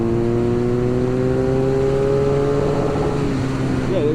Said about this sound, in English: there's the rev limiter in second, about 70 degrees, about 70 miles per hour in second